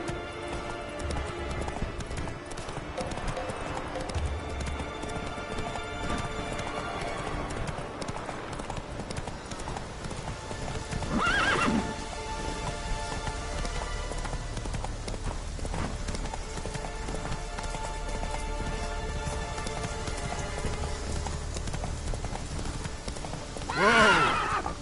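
Roach, a horse in a video game, gallops with steady rapid hoofbeats that continue throughout, and whinnies loudly twice, once midway and once at the end.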